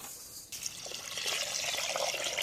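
Water pours steadily onto soaking rice in a village outdoor kitchen, being measured in for a 2 kg fish biryani. A sharp splash starts it, then a continuous close, bright rushing pour fills the clip.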